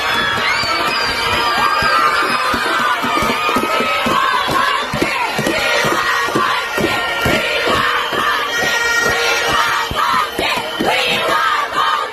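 A large outdoor crowd at St. Thomas Jerk Fest chants and roars Bounty Killer's name, the mass of voices loud and continuous with rhythmic shouted pulses and yells throughout.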